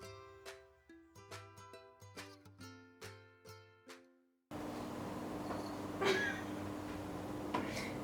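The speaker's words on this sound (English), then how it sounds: "And you can see my kitten." A kitten meows once or twice, thin and high, after a run of plucked musical notes, with a faint hum underneath.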